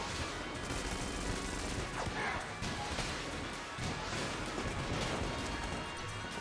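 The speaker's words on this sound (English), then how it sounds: "this gun also creates a lot of fire everywhere." Gunfire in the twin-stick shooter Enter the Gungeon from a weapon that spreads fire everywhere: a dense, continuous barrage of rapid shots and crackling bursts, loud and steady for the whole stretch, with a faint voice mixed in.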